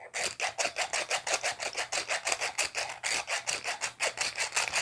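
Pepper being ground vigorously from a grinder over a dish of water, a rapid run of rhythmic gritty rasping strokes at an even pace, close and loud, with no voices.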